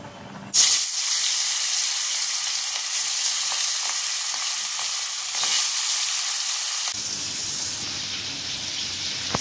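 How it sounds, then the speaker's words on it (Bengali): Hilsa fish pieces rubbed with salt and turmeric fry in hot oil in a karahi, a loud continuous sizzle and hiss that begins sharply and fills the clip, dropping slightly toward the end. "আর এদিকে কড়াতে তেলও বসিয়ে দিয়েছি, মাছটা অনেকক্ষণ নুন হলুদ মাখানো রয়েছে, এবার ভেজে নিই।"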